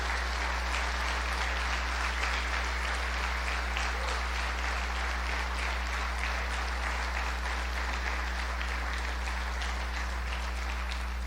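A church congregation applauds in sustained, dense clapping over a low steady electrical hum in the hall, continuous and even throughout.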